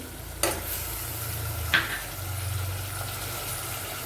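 Chopped onion sautéing in a pan for Gujarati masala khichdi, a steady low sizzle running throughout, with two brief sharp clinks of a spoon stirring against the pan.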